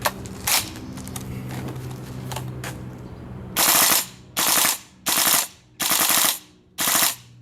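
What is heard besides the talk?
GHK M4 gas blowback airsoft rifle firing a magazine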